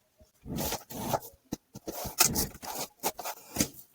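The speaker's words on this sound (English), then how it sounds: "I'm going to slip one of those out cards into the spot so that I don't lose where this card goes" Paper index cards are shuffled and slipped into a Zettelkasten card box, producing a close series of quick rustling swipes and scrapes in irregular bursts.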